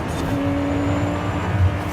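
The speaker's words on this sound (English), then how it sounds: "Listen to the low chop again, guys, of the Corvette." Corvette engine in Forza Horizon 5 holds a steady low, choppy idle with a continuous rumbling drone throughout, fairly loud and with no voices over it.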